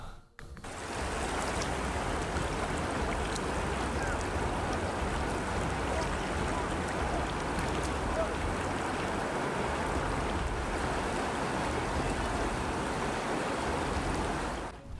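Steady roaring rush of a lahar flow in the Regoyo River channel in Lumajang, East Java, a constant turbulent wash that continues without a break and has no voices.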